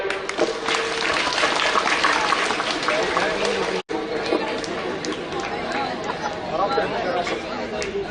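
An audience claps during a national disaster response team's life-saving demonstration, a sustained, busy wash of applause mixed with crowd chatter and voices throughout.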